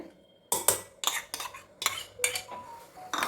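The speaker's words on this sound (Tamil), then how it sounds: "ஸோ இப்போ இதில் வந்து தயிர் நான் சேர்த்துக்கிறேன்" A spoon clinks and scrapes against a metal dish while curd (yogurt) is scooped in. The sharp, irregular taps come in quick bursts of about seven strikes, close and clear, with short quiet gaps between them and no talking.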